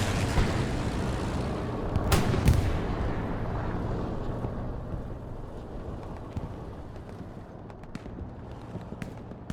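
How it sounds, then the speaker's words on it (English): Airstrike explosions in the WWII shooter Hell Let Loose, with a heavy booming blast around two seconds in over a constant rumbling battlefield roar, then lingering low rumble and scattered distant crackles of gunfire. "Airstrike coming in."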